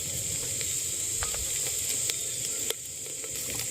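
Hot oil with tempering spices and sautéed onion, garlic and curry leaves sizzles in a courtyard kitchen, a continuous close hiss broken by scattered crisp pops and one brief scrape.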